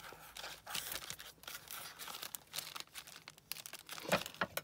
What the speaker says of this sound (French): Ensuite, on va ouvrir donc un petit cadeau.